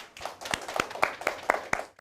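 A small audience claps in a brisk, regular rhythm, about eight distinct claps in quick succession, close and clear, with no talk over it.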